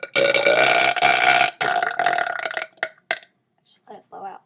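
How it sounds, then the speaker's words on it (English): A child burps loudly in a long, sustained belch, followed by a second burp and a few shorter trailing burps that fade into quiet. "he's trying to learn how to burp like me"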